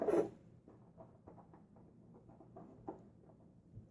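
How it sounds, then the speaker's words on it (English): A Gillette Nacet razor blade in a Timeless .95 razor chatters as it scoots along a counter, making a quiet, irregular series of small rasping ticks close by, with no talking. "razor blade is chattering as it moves along the counter"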